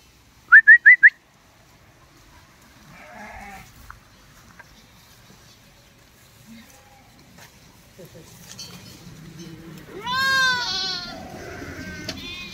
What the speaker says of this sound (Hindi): तो यहाँ पे छोड़ दी लोगों ने भेड़े हैं।